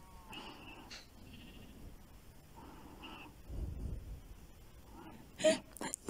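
Sheep bleating in the Minecraft video game: a few short, fairly faint bleats spread out over soft ambient game sounds, with a louder burst of noise near the end.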